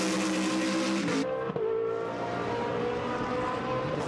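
A BMW GT race car exiting the final corner at Donington during qualifying, its engine loud and close with a high rising drone, then a gear-change dip and a continued strained roar as it accelerates away.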